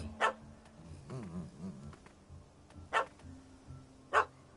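Dog barking in The Witcher 3, three sharp separate barks spaced across a quiet game scene with a faint low hum beneath.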